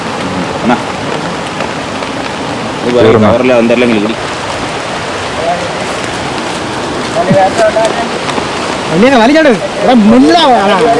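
Heavy rain pours steadily through a dense forest beside a river, a broad hiss running throughout, with people talking over it at several points.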